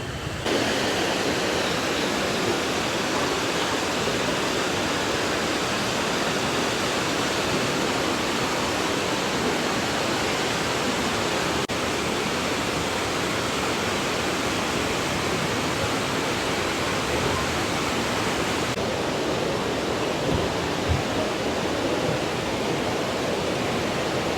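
Loud, continuous rushing water roars at the ruins of Count Potocki's old mill in Vinnytsia Oblast, a dense steady wash with no voices or breaks.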